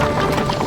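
Hooves clip-clop from a five-horse team driven in a quadriga demonstration in Hungary, a brief, close burst of hoofbeats.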